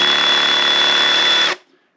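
A Milwaukee 12V Fuel SDS drill, stuck in hammer mode, runs at full speed with a loud, steady whine and buzzing rattle for about a second and a half, then cuts off and spins down.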